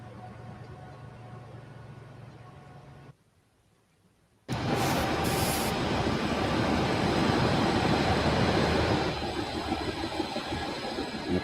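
Freight train of hoppers and boxcars with helper locomotives rolling past on Cajon Pass, a loud continuous rumble and rattle of wagons that drops briefly to near silence, then returns strong and steady.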